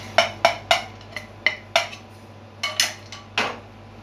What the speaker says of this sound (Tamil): இப்போ வந்து வானலில் வந்து இதை கொஞ்சம் லேசாக வறுத்துடுவோம்